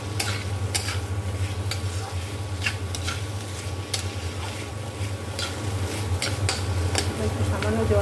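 A spoon scrapes and stirs potato and green bean curry in a pan over a steady low hum, with light sizzling and soft clinks recurring irregularly throughout.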